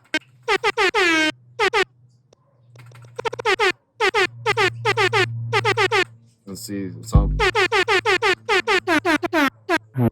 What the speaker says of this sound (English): our famous air horns